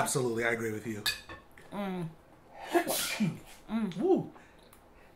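A person sneezes sharply once at a table during an Indian food mukbang. Cutlery and dishes clink nearby, and people talk before and after the sneeze.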